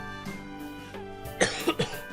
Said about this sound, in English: I am very sorry about the coughing